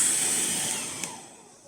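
A steady whooshing blower drones on, fading slightly, with a brief click near the middle.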